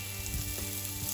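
A veggie kebab sizzles on a grill in a faint, steady hiss with light crackles, close but quiet.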